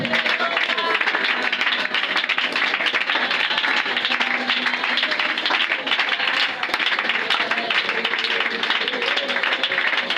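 Church congregation applauding steadily at a service, a dense continuous wash of clapping and crowd noise with voices mixed in throughout, loud and sustained from start to finish.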